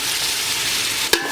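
Ginger and garlic sauté in a hot pan for crab masala, giving a steady, close sizzle and hiss followed by a single sharp clink of a stirring spoon near the end.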